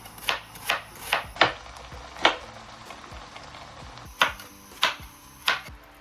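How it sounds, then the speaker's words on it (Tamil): A knife chops onions on a board in a home kitchen while chicken fried rice is being made, with about ten crisp, distinct strikes in two bursts and a short pause between them. "முதல்ல வந்து வெங்காயம் வெட்டுறேன்."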